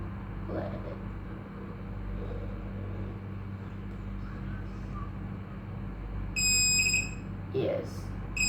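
An Arduino high-voltage warning buzzer sounds a short burst of shrill electronic beeping near the end, after a long stretch of low electrical hum.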